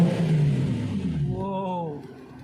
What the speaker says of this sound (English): I'll just rev it once more